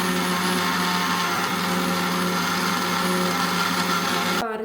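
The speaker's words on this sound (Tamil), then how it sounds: "சீனியை நல்லா நாங்கள் பவுடர் பண்ணிக்கிறணும்." A mixer grinder runs loudly and continuously, pulverizing sugar into powder for ghee biscuits, with a steady high whirring roar that stops abruptly at the very end.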